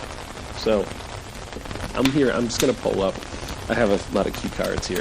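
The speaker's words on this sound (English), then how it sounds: "you can listen to some of the nice rain and fire noises in the background" Steady rain patters in the background with a soft crackling texture underneath, continuous and fairly even while a person talks over it.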